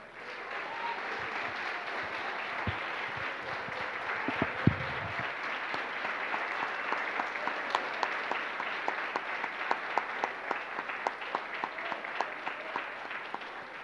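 A church congregation applauds, a steady crowd of many hands clapping that gradually gathers into a rhythmic, evenly timed beat, with a brief low thump partway through.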